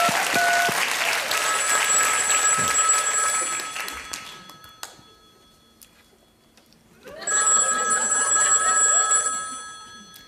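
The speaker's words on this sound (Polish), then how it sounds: "Telefon dzwoni." A telephone rings on stage during a Polish cabaret sketch, two bursts of ringing separated by a brief quieter gap, with audience noise mixed in.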